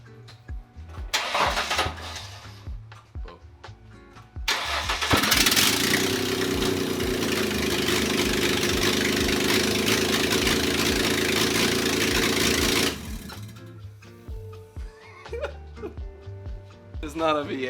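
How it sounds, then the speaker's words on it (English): A Ford Mustang V6, stripped down with no exhaust fitted, cranks and catches, then runs loud and raw at a rough idle for about eight seconds before cutting off, with people talking before and after. "so we can try and turn on the car"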